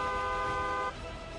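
A car horn on a Mumbai street sounds one steady blast lasting under a second, followed by the low wash of surrounding road traffic.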